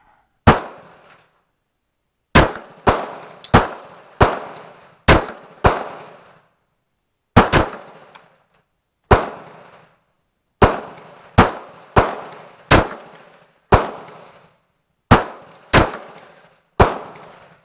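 Sharp 9mm Luger pistol shots firing Turkish-made BPS ammunition, loud and close, in irregular bursts of two to five quick rounds separated by short pauses, each crack trailing off in a brief echo; no talking.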